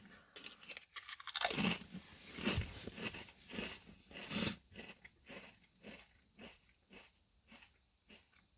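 Crisp crunches of an Old Dutch Spicy Dill potato chip being bitten and chewed close up, a few sharp bites followed by a run of softer, rhythmic chewing crackles and breaths.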